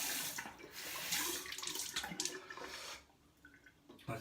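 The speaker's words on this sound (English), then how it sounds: "I'm going to put a little bit of water on my face." Water splashes and runs from a tap as it is cupped onto a face during shaving, a quiet sequence of splashes and trickles that drops to near silence before one last splash.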